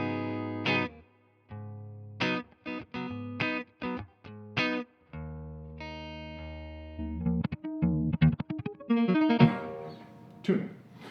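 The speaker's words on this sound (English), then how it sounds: "Let's do just a type of clean boost and see what kind of sound we can get." An electric guitar runs through an Ibanez TS808 pedal set as a clean boost with the tone at noon, playing short plucked notes and chords with gaps between them, then denser strumming near the end.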